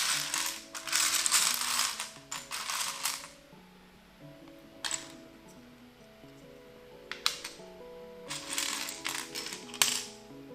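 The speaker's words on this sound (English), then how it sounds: "Maybe I should record some nice Lego clickety sounds." LEGO bricks from Elves and Ninjago sets clicking and clattering together up close, in several bursts of sharp little plastic clicks separated by quieter pauses.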